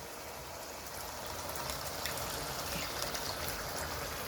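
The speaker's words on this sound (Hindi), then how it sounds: "इसमें ना यखनी सी रह गई है, कोई आधा कप, वो भी हम साथ ही डाल रहे हैं" About half a cup of mutton stock is poured into a karahi of mutton, making a soft, steady trickle that runs for a few seconds. The sound is faint and heard alone.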